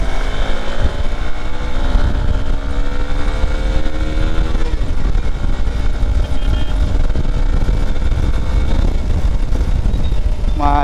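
A BMW S1000 RR motorcycle revs hard at full throttle, a loud, close engine scream with rising and falling pitch sweeps that stays continuous throughout.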